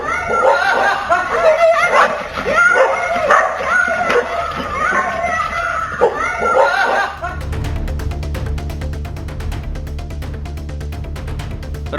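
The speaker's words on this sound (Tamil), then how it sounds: "பள்ளி மாணவியை 7 தெருநாய்கள் துரத்திச் சென்ற காட்சி அதிர்ச்சியை ஏற்படுத்தியுள்ளது" Several stray dogs barking while chasing a schoolgirl in a street, repeated sharp barks and yips mixed with shouting voices and a raised, chaotic commotion, loud and close, followed by a steadier background noise.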